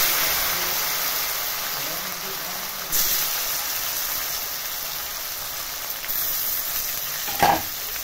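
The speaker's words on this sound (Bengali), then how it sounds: "মশলা ফুটে উঠেছে, এবার দিচ্ছি আদা রসুন কুচি। এরপর দিচ্ছি টমেটো কুচি।" Chopped ginger, garlic and tomato fry with spices in a pan, giving a steady broadband sizzle that runs throughout, with a couple of brief stirring scrapes near the end.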